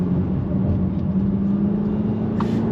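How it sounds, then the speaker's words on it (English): A diesel engine in a Jaguar F-Pace (X761) drones steadily inside the cabin with low road rumble while downshifting gears; the engine note holds fairly even throughout. "Just shifting down a couple of gears makes the car headbutt the horizon"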